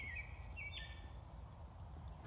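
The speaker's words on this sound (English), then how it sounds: "That's a robin, right up above me, making calls to establish its territory before it gets dark." A faint American robin calls a few times overhead in the woods near dusk with short high chirps over a low steady rumble of background noise.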